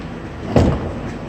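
Rear cargo door of a 2017 Ram ProMaster 1500 cargo van swings open with a single short, loud thunk-like burst midway, surrounded by outdoor background noise and no talking.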